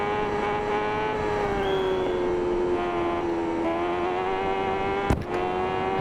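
A racing motorcycle engine in the TT Isle of Man: Ride on the Edge 3 video game on the South West Course holds a steady high drone, dipping slightly as it shifts down before a sharp click and rising again.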